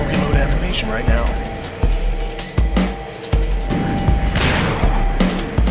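Shotgun and other weapon fire in the game Dead State, a series of heavy booming blasts at irregular intervals, mixed with clattering impacts and someone talking over the action.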